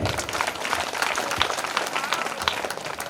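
An audience at a live comedy and mimicry show bursts into loud, continuous applause, dense clapping that fills the whole moment with crowd noise and some voices mixed in.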